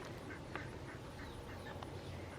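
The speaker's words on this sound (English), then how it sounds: "And we have 2 new ducks." Backyard ducks kept with chickens quack in short, scattered calls at a middle distance over a steady outdoor hiss and low rumble, with no voices.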